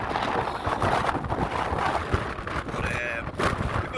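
Strong storm wind during Storm Ashley at Blea Tarn buffets the microphone in a dense, continuous roar, loud and steady for the whole stretch with gusting swells and no voices.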